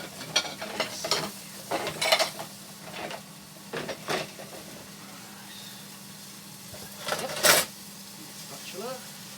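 A spatula scrapes and pushes gammon around a frying pan at close range, giving short intermittent scraping bursts over a faint steady sizzle, with pauses between the strokes.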